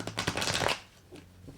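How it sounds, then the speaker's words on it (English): Tarot cards being shuffled by hand at close range, a dense riffling burst for most of a second that then fades to softer, scattered card rustles, with no talk over it. "So I'm going to start shuffling here for you now,"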